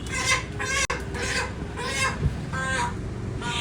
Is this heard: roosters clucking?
yes